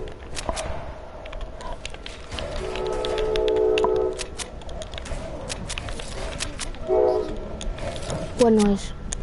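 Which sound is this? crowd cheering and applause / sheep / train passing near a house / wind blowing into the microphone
train passing near a house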